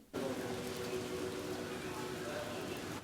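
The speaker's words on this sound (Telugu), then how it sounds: "పూజ అయిపోయింది కానీ వర్షం మాత్రం అస్సలు తగ్గలేదు" Steady rain in Hyderabad hisses continuously, a dense, even wash of noise that holds at the same level throughout with no voices.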